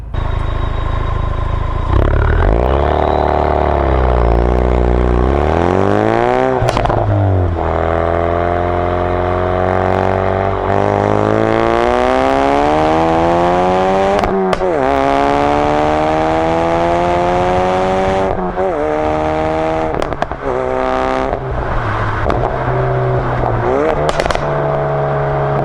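A Ford Focus RS exhaust during a launch control start: the engine holds a loud revving drone, then surges through rising, falling sweeps as it accelerates hard through gears, with crackles and pops between shifts, close and continuous.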